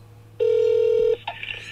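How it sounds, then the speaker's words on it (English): A telephone tone for a call to a shop about fitting Bilstein shocks on a truck with a camper, heard as one steady, loud tone lasting about three-quarters of a second, followed by a short burst of higher tones and a soft hiss. "So let's make a few phone calls."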